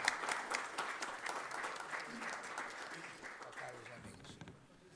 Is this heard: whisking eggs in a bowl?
no